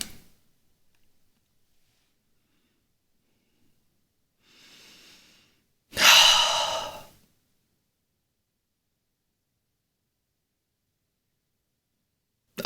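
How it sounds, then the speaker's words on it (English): A single deep breath drawn in and let out during a guided meditation, a soft airy inhale followed by a louder, fuller rush of breath, then quiet. "Take in this deep breath."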